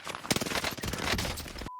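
Rapid gunfire in the Warzone video game, a dense burst of overlapping shots and combat noise that runs almost two seconds before cutting to silence with a brief tone at the end.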